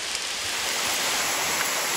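Heavy rain pours down around a fishing boat on a river in Kalimantan, Borneo, a loud, dense and continuous wash of noise with no voices.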